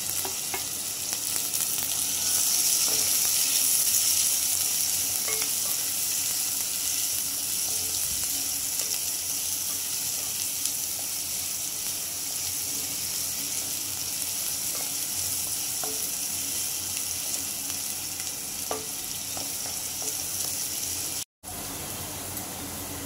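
Onion and coconut sizzle steadily in a hot pan for a leafy-vegetable dish, with occasional stirring scrapes and a brief break near the end, close and continuous with no one talking.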